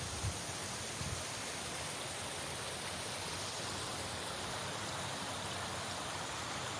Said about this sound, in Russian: Там небольшой водопадик.